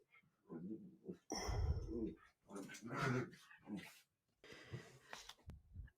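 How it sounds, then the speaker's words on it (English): Dogs in a home office snuffle, cough, growl and whimper in short bursts with pauses between them, close and fairly quiet. "my dogs have stopped making a ruckus in my office"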